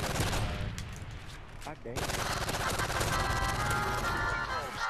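Rapid automatic gunfire from a Modern Warfare 3 online match, loud bursts of close shots filling the clip with a brief gap near the middle, and a voice talking faintly underneath.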